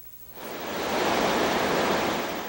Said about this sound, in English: The west side of Vancouver Island is seeing some extremely high surf.